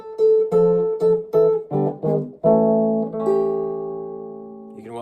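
Electric blues guitar in the Chicago style plays a descending walk-down turnaround in A, several plucked double-stop hits stepping downward, then a chord left ringing and decaying before a final short strum.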